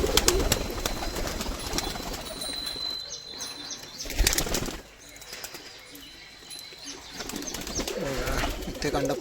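Pigeon chicks from tournament-winning racing stock in a loft, with soft cooing and rustling, fluttering wing movements close by, a few sharper flaps standing out over low background noise.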